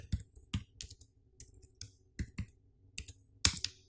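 A computer keyboard being typed on for a code comment, irregular bursts of sharp close key clicks with short pauses between words and one heavier keystroke near the end, quiet and without speech.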